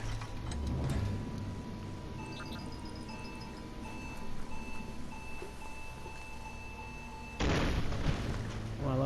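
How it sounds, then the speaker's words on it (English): A bomb in the game Biomutant beeps in a steady, evenly spaced pattern, then goes off in a sudden loud explosion near the end, a broad blast that lingers. "That was a bomb."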